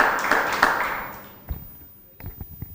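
An audience briefly applauds a speaker at an event on youth and national development, a short burst of clapping that dies away, followed by a few scattered taps and knocks.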